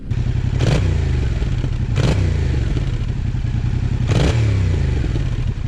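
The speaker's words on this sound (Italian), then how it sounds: "Anche a livello di scarico è molto silenziosa questa moto." A Yamaha Ténéré 700 motorcycle rides along with a steady, fairly subdued engine drone from its quiet exhaust, broken by a few short thumps and clatters from bumps in the road.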